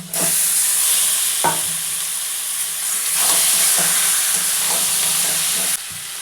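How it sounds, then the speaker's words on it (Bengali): Marinated chicken hitting hot oil in a wok of fried potatoes: a loud, continuous hiss with a few dull knocks of the spatula, close by and without voices. "আমি এবারে এই চিকেনটা এই যে মাখিয়ে নিয়েছি এবারে দিয়ে দেবো"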